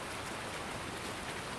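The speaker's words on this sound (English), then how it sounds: "It won't get quieter until the rain goes away." Steady rain in the Farming Simulator 19 video game, a dense, even hiss of falling drops that stays at a constant level throughout with no breaks, heard from indoors.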